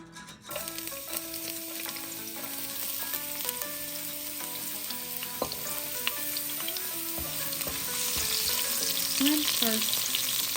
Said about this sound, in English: The pan is heated, so let's put the vegetable oil in.